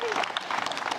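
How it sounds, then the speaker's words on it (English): Guests clapping at a wedding solemnisation as the groom's parents are introduced, a short burst of dense applause with a faint voice gliding over the start. "a big round of applause for the parents of Wei"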